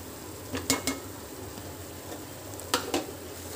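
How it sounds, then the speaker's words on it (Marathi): Spice masala for mutton rassa sautés in a pan with a soft, steady sizzle, while a few sharp spoon scrapes and clicks sound in two brief pairs. "आता हे मसाले पण ह्याच्यामध्ये चांगले परतून घ्यायचे"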